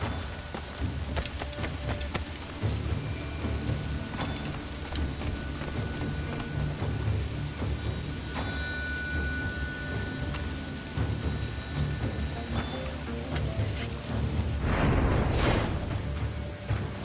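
Stormy weather in the Assassin's Creed game, set at sea in 1715 with ships and a large fleet in wind and waves: a steady rain hiss over low rumbling wind and surf, with a louder gust or crash near the end.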